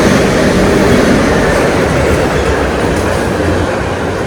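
A freight train rolls past at close range, making a loud, continuous rumble with rhythmic wheel clatter that holds steady throughout, with no voices.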